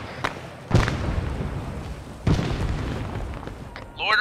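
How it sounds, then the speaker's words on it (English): Loitering rocket strikes in ARMA 3, two heavy booming explosions a second and a half apart, each trailing off in a rumbling decay, with a voice briefly audible. "Loitering rockets. It's those weird things that they shoot."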